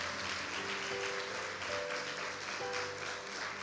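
A church congregation claps, a dense steady wash of applause that fills the room for several seconds with no pause. A faint sustained tone sits beneath the clapping.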